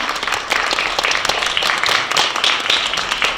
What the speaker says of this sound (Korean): 조혜은 학생에게 다시 한번 큰 박수 부탁드립니다